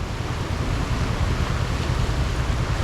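Floodwater from a severe flood rushes steadily in a loud, continuous broadband roar, with wind buffeting the microphone and no talk.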